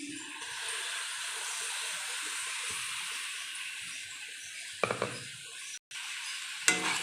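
Soaked moong dal sautés in a pan with a low, steady sizzle close by, followed near the end by a few clinks and scrapes of a utensil against the pan.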